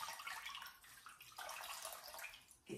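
Water squeezed from a saturated sponge cloth, a faint patter and trickle of drops falling into a basin in uneven bursts over a few seconds, heard close and alone.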